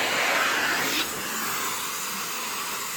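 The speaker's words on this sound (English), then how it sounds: "Let's see if it turns on. It works. The suction is alright." Central vacuum running through a telescopic wand, a loud steady rushing hiss of suction that shifts slightly in tone after a second and then holds constant.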